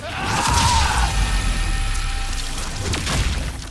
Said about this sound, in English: as he headbutts the opponent, you see their head just explode